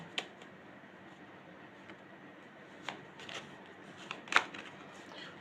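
Tarot cards are shuffled in quiet bursts, soft riffling with a few sharper snaps and flicks, close and faint, no talking over it.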